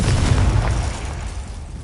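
A Confringo spell explosion in a Hogwarts video game: one loud, close, rumbling blast with a heavy low end that holds for about two seconds and eases off slightly toward the end.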